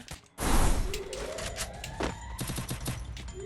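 Rapid bursts of gunfire in the Free Fire mobile game, a loud volley that breaks into repeated sharp shots over a few seconds, close and dense.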